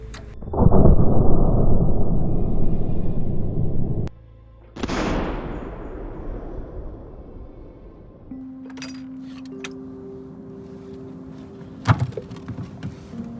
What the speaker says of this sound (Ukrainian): Давай, гармата, постріл!